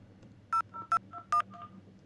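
An IP phone in a VoIP setup dials extension 221, giving three short, distinct keypad tones evenly spaced over a faint background hum.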